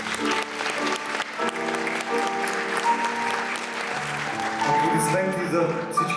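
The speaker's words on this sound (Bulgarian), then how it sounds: "Аплодисменти за всички" Audience applause at a Bulgarian music show, a steady clapping wash running throughout beneath sustained musical tones from the band.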